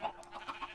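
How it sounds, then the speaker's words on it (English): A chicken in the Minecraft video game gives a few short, soft clucks in quick succession, fairly quiet with no talking. "Chicken."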